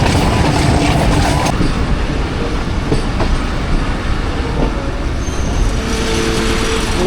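The Millat Express passenger train rolls into a station in Pakistan, a loud, close, continuous rumble of wheels and carriages with rattling, clanking metal and a dense rhythmic clatter throughout.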